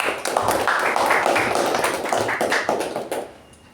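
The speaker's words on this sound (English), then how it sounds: "let's give a huge round of applause for Toastmaster Jyothi." Clapping for a Toastmaster at a club meeting, a busy patter of many hands heard up close, steady and fairly loud before tapering off near the end.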